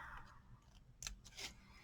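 Scissors snipping paper trim during card-album crafting, two brief, soft crisp cuts close by in a quiet room, with faint breathy background noise.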